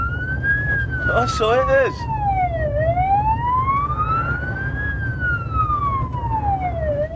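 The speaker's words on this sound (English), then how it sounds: "you heard the siren, yes, because the police, the law, the fuzz, the bobbies, the bloods, the feds, that's them" A wailing police siren sweeps up and down steadily from a moving vehicle, loud and continuous throughout, with someone speaking briefly over it early on.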